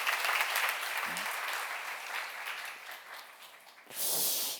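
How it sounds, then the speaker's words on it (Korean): A church congregation claps at a Korean seminar on the Gospel of John, a soft, sustained patter that fades midway before a louder burst of clapping near the end. "믿는 사람만 박수하세요."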